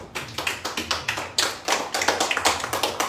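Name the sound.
audience applause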